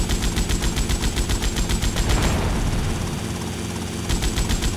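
In GTA Vice City, a helicopter's rotor chops loudly and steadily while rapid machine-gun fire rattles over it in bursts, close and dense, with no speech.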